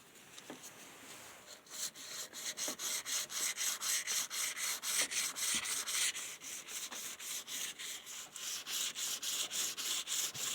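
Guitar fret ends are polished with quick rhythmic back-and-forth rubbing strokes, a dense scratchy hiss repeating about twice per second after a short pause at the start, close and steady with no talking.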